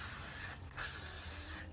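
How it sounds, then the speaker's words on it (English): Schwarzkopf Got2b Glued Blasting Freeze hairspray sprayed from an aerosol can in two close, loud hissing bursts with a short break between them, no voices. "This is the Schwarzkopf Got to Be Glued Blasting Freeze Spray for a screaming hold."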